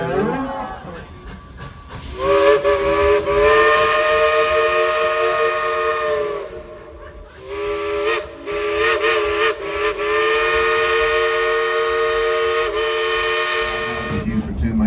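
At Dollywood, a steam train's whistle blows in long, loud, steady blasts with a brief break in the middle, heard close over a background of steam hiss and faint crowd noise.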